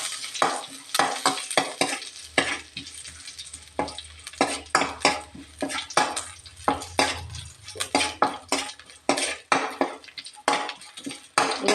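Mustard seeds and curry leaves crackle and sizzle in hot oil while being stirred, with sharp, rapid pops and spatters and occasional clinks of a metal spoon against the pan throughout.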